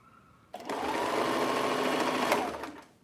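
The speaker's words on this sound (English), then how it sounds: "Does my sewing machine sound loud to you guys?" Sewing machine stitching a pair of shorts, a steady close whirring drone that starts abruptly, runs evenly for about two seconds and then winds down.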